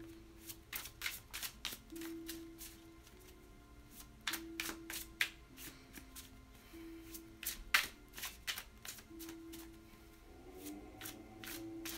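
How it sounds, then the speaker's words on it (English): A deck of tarot cards is shuffled over and over in quick riffling bursts, close and fairly quiet, with brief pauses between passes and a soft low hum behind. "they're all just like exploding out of the deck"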